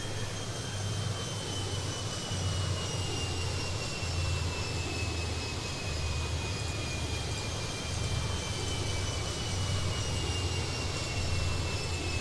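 A jet airliner approaches an airport in the video game Airport Madness 3D, a steady continuous engine drone with a low rumble and thin high whine lasting throughout, moderately quiet and alone without talking.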